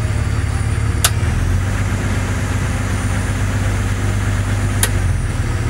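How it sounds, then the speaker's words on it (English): Steady idle from a Jeep Cherokee XJ sitting in park at an extended fast idle, a continuous even engine drone at constant speed with two brief sharp ticks over it. "here's our extended idle demonstration number one"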